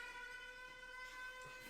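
A steady wailing air raid siren in a tabletop role-playing session, a sustained tonal drone held for under two seconds, faint and distant.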